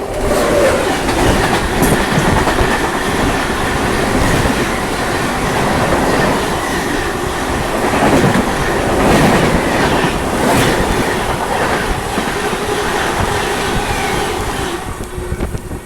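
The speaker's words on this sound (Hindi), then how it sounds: "यहाँ पे आ रही है संपूर्ण क्रांति एक्सेलरेट करते हुए।" The Sampoorna Kranti express train accelerates past, filling the scene with loud continuous rumble, rhythmic clickety-clack of wheels over rail joints and occasional metallic squeals, steady throughout at close range.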